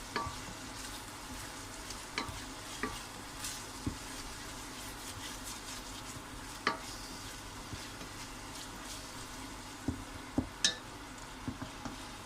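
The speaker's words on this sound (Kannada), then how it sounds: "ಇದಕ್ಕೆ ಜಿಂಜರ್ ಮತ್ತು ಗಾರ್ಲಿಕ್ ಮತ್ತು ಗ್ರೀನ್ ಚಿಲ್ಲಿಗೆ ಹಾಕೊಳ್ತಿದ್ದೀನಿ ಫ್ರೈ ಮಾಡ್ಕೊತೀನಿ" Ginger, garlic and green chilli fry in a pan with a steady low sizzle, broken by scattered clicks and taps of a spoon stirring, with no voices.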